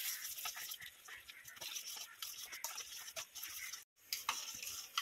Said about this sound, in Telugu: దీన్ని మనం చేత్తో కానీ బీటర్తో కానీ బాగా కలుపుకోవాలి